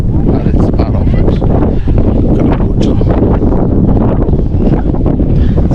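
Heavy wind buffets the microphone outdoors at a nature reserve in Cape Town, a loud continuous low roar with gusty rumble throughout, with a voice faintly present underneath.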